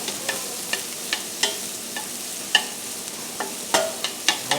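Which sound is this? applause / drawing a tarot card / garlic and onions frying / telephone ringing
garlic and onions frying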